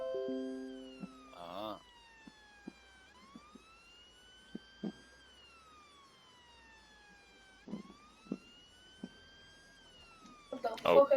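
A siren on an APC in a video game roleplay wails in long rising and falling sweeps for most of the span. It is loud and close, with brief knocks and a couple of short spoken exclamations over it.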